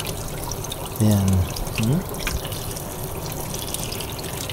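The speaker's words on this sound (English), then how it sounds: "You can run it sa water." Tap water running over boiled eggs during peeling, a steady splashing flow in a kitchen, with someone speaking briefly over it.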